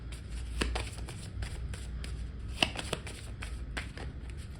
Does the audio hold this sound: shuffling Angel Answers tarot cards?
yes